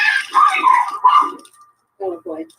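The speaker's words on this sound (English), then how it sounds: "Yeah, that was my cat and dog." A small dog yips a couple of times in a quiet room after someone speaks briefly, the short barks close but modest in volume.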